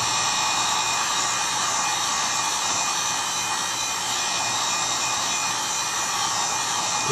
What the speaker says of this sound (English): So I'm taking my heat gun.